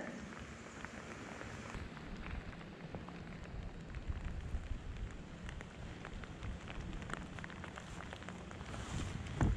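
Steady rain pattering on water and a fishing boat during bass fishing, a dense continuous hiss of drops with scattered closer taps and a louder splash near the end; no talking.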